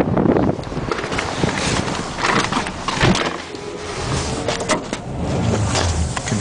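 A Subaru's four-cylinder engine hums steadily from inside the cabin, mixed with wind and road rumble, with no talking.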